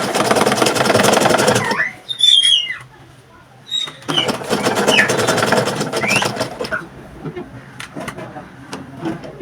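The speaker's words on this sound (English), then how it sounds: "and now sew." A sewing machine runs in steady bursts while stitching a vintage camp-collar shirt, close and loud, with short pauses and light handling clatter between runs.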